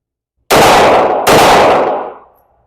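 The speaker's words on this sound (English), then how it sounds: "I'm just really just gonna fire these shots off and see if it runs" Two rifle shots fired at range targets, the second roughly 0.75 seconds after the first, each a sharp, loud crack with a ringing tail that fades slowly after the second shot. No voices are heard.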